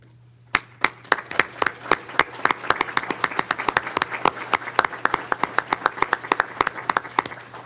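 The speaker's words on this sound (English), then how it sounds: "if you are a recipient of a grant, if you can stand up so we can recognize you with a round of applause" Scattered applause at a county commissioners' business meeting for grant recipients: sharp, distinct claps that start sparse, then build into a brisk uneven patter from a small group in a room with a low steady hum.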